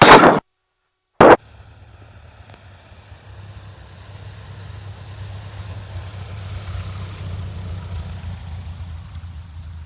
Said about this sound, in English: Nice landing, David.